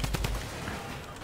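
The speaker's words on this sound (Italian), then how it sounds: "sento sparare anche le torrette" Turrets fire in Fortnite as a quick burst of rapid gunshots, a few sharp reports in fast succession before the shooting trails off into a softer, noisy background.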